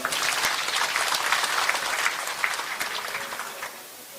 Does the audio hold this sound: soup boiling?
no